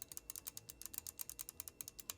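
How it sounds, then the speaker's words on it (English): A Glorious Model O Wireless gaming mouse is clicked repeatedly in quick, steady succession, producing crisp, quiet, close-up clicks with no talking. "let me go ahead and give you guys a click test so you can see how loud it is"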